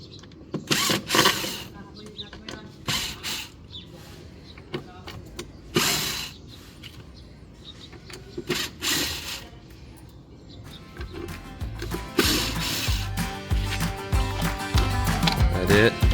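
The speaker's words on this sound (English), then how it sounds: "Screw gun." A screw gun backs screws out of a cast concrete wall form on a home build site, giving several short whirring bursts with pauses between and a steady mechanical rattle building at the end, with a voice speaking at times.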